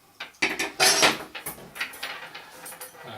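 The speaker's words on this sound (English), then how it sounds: "This is the boil plate" Metal boil plate attachment for a folding firebox stove being handled, a series of sharp clanks and clatters of thin metal pieces knocking together, close up with no talk.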